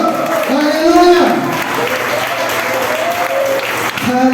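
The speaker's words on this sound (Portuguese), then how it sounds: "Você pode aplaudir o Senhor?" A church congregation at Igreja Nova Vida do Jockey applauds loudly in praise, steady clapping running throughout while voices call out and exclaim over it.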